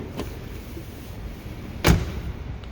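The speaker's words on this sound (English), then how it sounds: "That's the door." A car door with upgraded sound insulation shuts with a single muffled, fairly soft thud, close by, over a low background hum.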